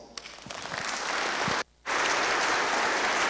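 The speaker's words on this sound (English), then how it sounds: "So please give me a round of applause." A conference audience at a security talk claps steadily for a speaker, the applause swelling, breaking off for a brief moment, then resuming just as loud.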